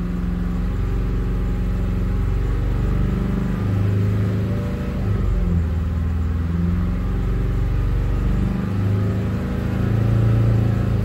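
A Mazda CX-5 Skyactiv 2.2 diesel engine held steady at 3,000 RPM while checking a low oil pressure fault, giving a continuous loud, even mechanical drone with no speech over it.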